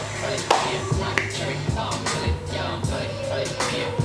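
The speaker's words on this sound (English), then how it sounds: "I'm clapping my hands." Hands clapping at home during a music video reaction, a few sharp claps at irregular intervals under continuous background music and voices.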